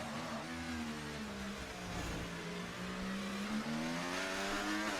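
Race cars passing on the main straight in a racing video game, several engines revving and whining with rising and falling pitch, a steady loud drone of overlapping cars with no talk.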